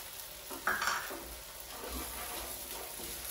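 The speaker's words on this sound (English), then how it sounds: "we're just gonna saute this in the pan" A spoonful of seasoning with garlic powder and salt sautéing in a pan for vegan street tacos: a constant close sizzle, swelling briefly with a bright hiss as the spices hit the oil, then settling.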